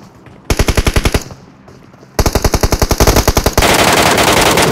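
Rapid bursts of automatic gunfire from a PUBG match, loud and close, in two sustained volleys separated by a short lull, ending in a dense continuous roar.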